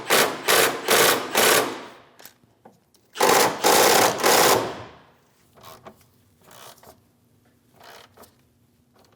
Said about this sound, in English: Snug down the bolts on either side.